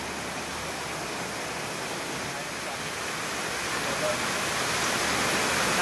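Heavy floodwater pours past a house in a dense, unbroken roar, loud and close, swelling slightly toward the end with no voices.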